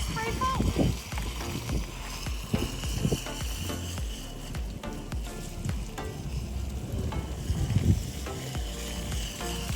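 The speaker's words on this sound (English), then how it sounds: "it's as simple as putting the thing forward to get it to spray foam" A foam sprayer from a Salty Captain car detailing kit hisses and sputters steadily as it sprays soap foam onto a vehicle, a continuous close wet spray running throughout with small fluctuations.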